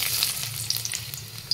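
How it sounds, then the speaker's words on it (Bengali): Chopped onion sizzles steadily in hot white oil in a wok, a bright continuous crackle with a few sharper pops and a low burner hum underneath, close and alone without talk. "তো এবার আমি কড়াইতে দিয়ে দিচ্ছি কোচানো পেঁয়াজ,"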